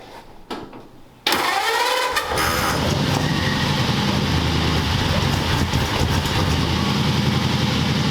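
A car fitted with Smitty mufflers, sitting on a lift in a shop, cranks and fires up after a few quiet clicks, then settles into a loud, steady, mellow idle that rumbles on without talk.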